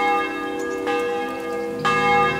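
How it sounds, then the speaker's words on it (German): Church bell tolling noon inside the medieval role-playing game Kingdom Come: Deliverance, two resonant strikes about a second apart, each ringing out with a long sustained hum and no voices. "Tatsächlich, es ist 12 Uhr läuten."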